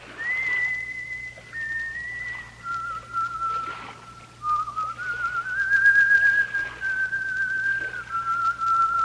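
A person whistling a slow, wavering tune, clear and close, with soft background hiss and low hum.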